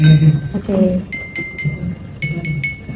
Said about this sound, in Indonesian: kenapa di setiap gelas itu suara yang dihasilkan itu berbeda